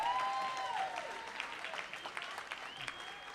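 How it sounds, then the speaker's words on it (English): Audience applause at a comedy show, a moderately faint patter of clapping from a crowd that grows after a brief high electronic tone and then carries on steadily. "Give them a round of applause."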